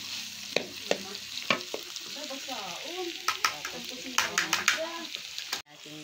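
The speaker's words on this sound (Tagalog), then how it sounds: "ilalagay na natin yung karne na ating kinayat-gayat" Chopped meat for sisig frying in a pan, a soft sizzle broken by sharp stirring clacks, with a voice talking over it through much of the stretch before an abrupt cutoff.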